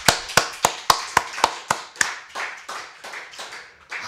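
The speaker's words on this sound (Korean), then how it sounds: "하나님께 영광의 박수 한번 돌리시다" Sharp, rhythmic hand claps from a church congregation giving glory to God, about a dozen distinct beats in a steady pulse that grow slightly more blurred and softer toward the end.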